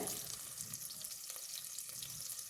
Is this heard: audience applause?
no